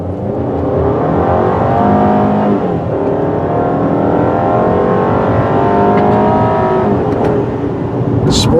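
A 2016 Volkswagen Tiguan engine pulls hard under acceleration, a loud, steady engine drone rising and falling in pitch through the gears, heard close from inside the vehicle.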